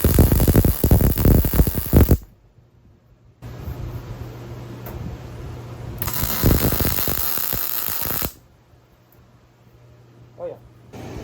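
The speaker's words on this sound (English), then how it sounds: "let's see if this thing will weld" A BestArc MiG145 MIG welder lays two short tack welds, each a loud crackling, sizzling burst lasting a couple of seconds, separated by quieter stretches of steady hum.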